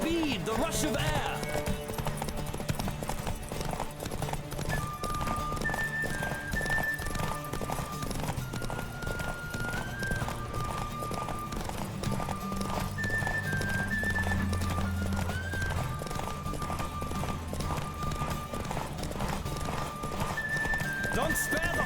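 Repeated clip-clop of galloping hooves from a horse racing in The Witcher 3, with occasional neighing, running under steady in-game music and a character's speech throughout.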